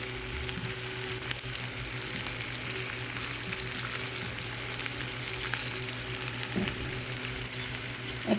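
Chopped garlic and chillies fry in hot oil for a pickle-spiced dal, a dense, even sizzle running close and loud throughout with occasional faint stirring.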